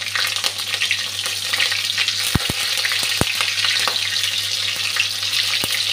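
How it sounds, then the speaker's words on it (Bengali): Green chillies and black cumin seeds sizzling in hot oil in a pan, a steady close frying hiss with a few sharp crackles and pops, no voices. "তেলটা গরম হয়ে গেছে, প্রথমে কাঁচা লঙ্কা দিয়ে দিলাম, এখন কালো জিরেটা দিয়ে দিচ্ছি"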